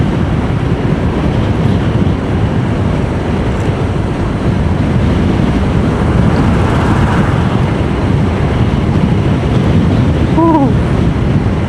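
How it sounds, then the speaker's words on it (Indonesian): Strong wind buffets a microphone while riding a motorbike along the Pantura coastal road in Indonesia, a loud, continuous rumbling roar with no letup, joined briefly by a faint high tone near the end. "Tapi anginnya juga besar ini di sini. Kita motoran aja bisa terbawa angin teman-teman."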